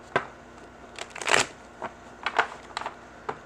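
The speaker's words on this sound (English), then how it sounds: "so I'm shuffling my cards" Tarot cards being shuffled by hand, a series of short riffling bursts and soft card snaps spread irregularly, close and fairly quiet, with no talk.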